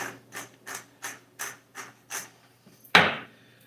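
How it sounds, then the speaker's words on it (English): An old pepper grinder cranked by hand over a plate of food: about seven even, rhythmic ratcheting crunches close up, followed by a sharp knock as the grinder is set down. "About to hit it with the old pepper grinder"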